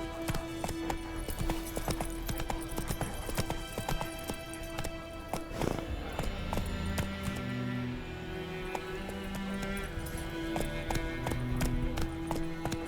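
Horse galloping in The Witcher 3, quick rhythmic hoofbeats with a brief whinny near the middle, continuing under game music and ambience without any voices.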